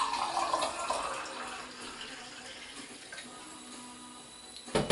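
Homebrew mead being poured into a vessel, a close, steady splashing and trickling of liquid that gradually eases off before a brief louder knock at the end, with no speech.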